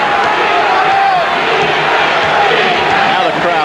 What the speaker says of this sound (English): Now the crowd getting into the defense chant